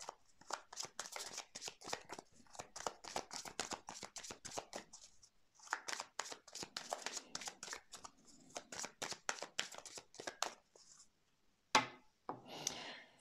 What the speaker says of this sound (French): Donc, je vais couper le jeu.